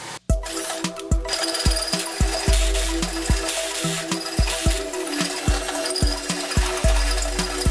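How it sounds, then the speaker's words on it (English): A power drill runs close by with a steady motor hum, drilling out weld slag on a Honda Accord part in quick, rhythmic knocking bursts. "take my drill bit through the front side here and knock it out back there"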